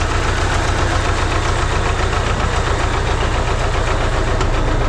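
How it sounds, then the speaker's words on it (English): Engine running normally, a loud, close, steady idling rumble with a continuous even vibration and no breaks. "Normal engine sound."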